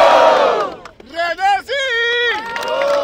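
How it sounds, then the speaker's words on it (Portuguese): A crowd at a Brazilian freestyle rap battle, Batalha da Aldeia, erupts in loud shouting and cheering with rising and falling yells, close and energetic throughout. "Barulho quem curtiu as rimas de JP!"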